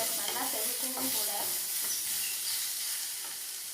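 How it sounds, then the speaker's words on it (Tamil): Crab chops sauté in an aluminium kadai, giving a loud, steady sizzle with scraping stirring strokes mixed in, heard up close and without talk. "ஸோ நல்லா வதக்குங்க. இந்த மாதிரி அலுமினியம் கடாய் எடுத்துக்கலாம்."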